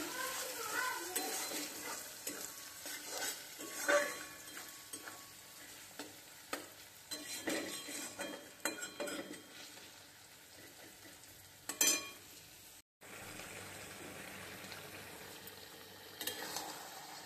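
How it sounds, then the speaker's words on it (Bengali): Onions frying in a pan, a soft sizzle with intermittent stirring and scraping sounds, a metallic clatter of utensils and faint voices in the background. "এখানে পেঁয়াজ ভেজে নিচ্ছি"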